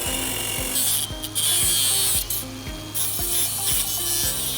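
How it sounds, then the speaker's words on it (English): Old weld being cleaned off metal in a service-yard workshop, with steady rhythmic rasping strokes repeating about twice a second, loud and close, with no talk. "So just cleaning the old weld off"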